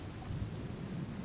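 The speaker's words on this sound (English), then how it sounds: "There is a storm above you." A brief thunderstorm plays as ambient sound, with a steady low rumble of thunder under a wash of rain. It is moderately loud and no one speaks.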